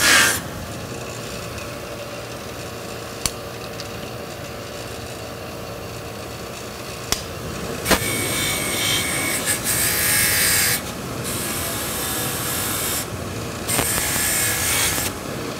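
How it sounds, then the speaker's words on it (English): Aluminum pieces being deburred and cleaned of oxidation, giving a continuous gritty rasping and scraping with a few sharp clicks and changes in intensity, close and steady, with no speech. "remove all the oxidation from the aluminum again, where we're going to get a good electrical contact. Deburr it nicely."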